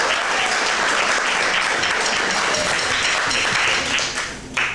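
A TV studio audience on a Lima talk show applauds with dense, sustained clapping that stays loud throughout and tapers slightly at the end.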